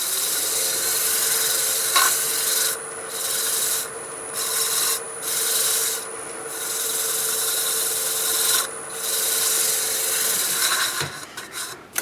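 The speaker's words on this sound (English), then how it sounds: "I'm going to buff that out with this white abrasive pad" A white abrasive pad buffs a turned wooden bowl coated in shellac-based sanding sealer, giving a steady close rubbing rasp with brief pauses as the pad lifts off the spinning wood.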